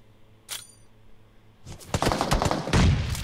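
Gunfire in a battle royale mobile game tournament: a sharp single shot, a pause, then dense rapid bursts of automatic fire, loud and close.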